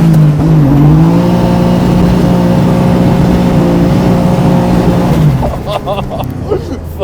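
A BMW E30 drift car with a turbocharged M50 engine roars loudly and close, holding a high, steady rev with slight wavering before the engine note drops away near the end.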